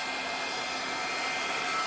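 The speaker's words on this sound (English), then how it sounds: "So this is just like a Dutch pour with the blow dryer, how you go back and forth to try and get lovely shapes" A blow dryer runs steadily close by, pushing paint across a canvas in a Dutch pour, a continuous loud whooshing hum with no break.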